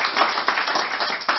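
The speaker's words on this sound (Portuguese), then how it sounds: "também uma salva de palmas" A round of applause at a motorcycle club's eleventh anniversary gathering, dense steady clapping from a crowd filling the whole moment at moderate level.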